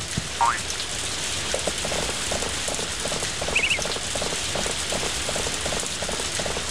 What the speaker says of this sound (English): Let's go see if we can turn this rain off